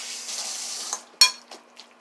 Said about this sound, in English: I'm now going to take a fork and I'm going to move this around and try to break up the large chunks